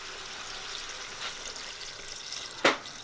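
Water is poured into a soup pot, four cups at a time, for a vegan chicken noodle soup. It makes a steady, soft rushing splash with a single sharp clink near the end.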